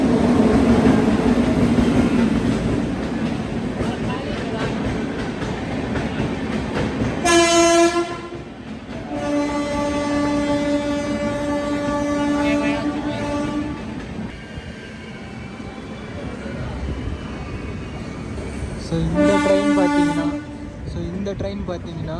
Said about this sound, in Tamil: இந்த ட்ரெயின் பார்த்தீங்கன்னா பகத் கி கோத்திலேருந்து சென்னை சென்ட்ரல் போகக்கூடிய ட்ரெயினுங்க. இப்போ தான் அரைவ் ஆகிட்டுருக்கு.